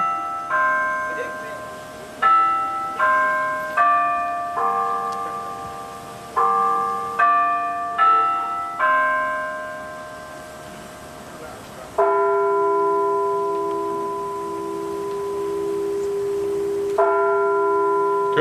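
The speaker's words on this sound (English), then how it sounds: "I want to tell you a little history of this bell." A newly dedicated tower bell chimes the Big Ben quarter melody in ringing, overlapping strokes, then tolls the hour with long, resonant, decaying strikes, loud and clear outdoors.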